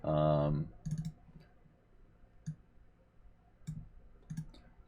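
Computer mouse clicks, a few sharp, close, separate clicks spaced a second or so apart after a short burst of talk at the start.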